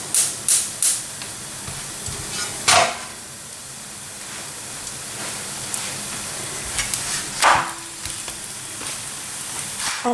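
Msemen flatbread frying in oil in a pan, basted and turned over, with a continuous sizzle broken by a few sharper scraping and splashing bursts, close up.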